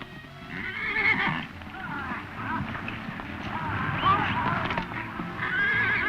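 A sorrel horse whinnies in several loud bursts while hooves clip-clop beneath, with people speaking briefly between the calls.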